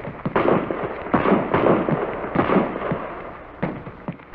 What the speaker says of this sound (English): At last, you're ready for practice firing on the big range.